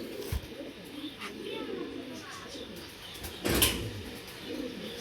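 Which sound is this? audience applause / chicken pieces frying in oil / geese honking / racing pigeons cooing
racing pigeons cooing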